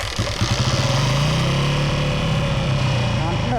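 A 1967 Sears Roebuck 106 SS motorcycle engine runs steadily close up, a loud, continuous putter with a slight rev rise near the end, carburettor in need of work.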